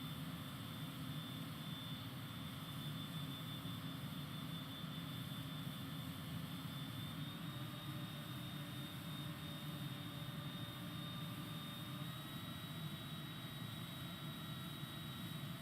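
A jet aircraft engine drones steadily and loudly throughout a flight simulator game flight from London to RAF Boscombe Down, its whine shifting slightly in pitch midway.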